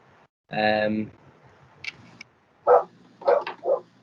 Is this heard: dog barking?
yes